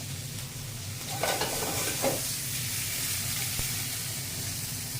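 Shrimp fry in a pan with a steady, hissing sizzle that runs through the whole stretch. Two brief clatters of stirring or turning come early on, and no one speaks.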